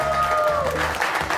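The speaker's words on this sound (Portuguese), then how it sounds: "Uma salva de palmas para os nossos dois" Studio audience applause for guests on a Brazilian talk show, steady and full across the short span, with a voice speaking over it.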